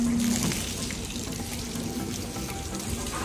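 Tap water runs steadily into a sink as an item is washed during Ganpati decoration preparations at home, a continuous close splashing rush with no voices.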